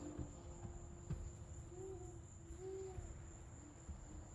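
Owl hooting at night in the Amazon, a few soft, low tonal hoots repeated at a slow pace, faint and distant under a steady high-pitched chorus of crickets and insects.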